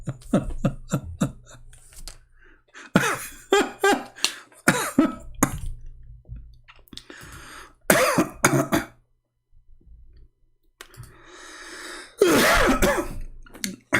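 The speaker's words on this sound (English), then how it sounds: "I apologize if I cough." A man coughs and clears his throat repeatedly in harsh, rasping bursts, some in quick clusters and others spread out with pauses between, loud and close to the mic.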